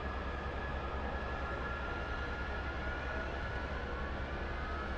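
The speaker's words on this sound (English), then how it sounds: "let's start up our aircraft" Aircraft engine spooling up during a start-up in the flight simulator game DCS World on a Persian Gulf airfield, a steady, continuous mechanical roar and whine at constant loudness, no voices.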